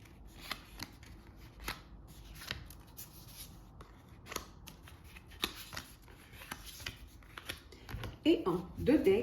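Tarot cards are shuffled by hand in a quiet room, giving soft repeated riffling and flicking bursts spread across the stretch, with a louder handling rustle near the end.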